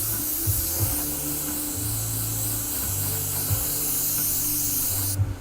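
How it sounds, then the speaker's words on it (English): An airbrush sprays paint onto a 3D-printed scorpion mask. A continuous close, bright hiss lasts throughout over a faint low hum, and a brief bump sounds near the end. "I'm just going to go ahead and make sure we get this 4052 laid in there nice and all over"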